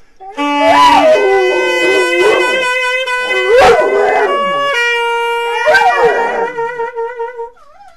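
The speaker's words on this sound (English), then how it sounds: "Have you ever wondered why dogs sing?" A dog howls and sings at length, in long wavering tones with rising and falling pitch and a few yelping breaks. It sounds close and loud, with no talking over it.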